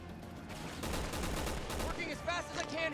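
Rapid gunfire crackles in Resident Evil 6 during Chris's campaign, a burst of quick repeated shots followed by scattered louder reports, with a player's voice talking over the action.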